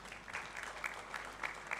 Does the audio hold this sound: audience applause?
yes